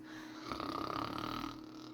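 A person imitates snoring with a rough, rasping inhaled snore lasting about a second, close and fairly quiet, with no speech.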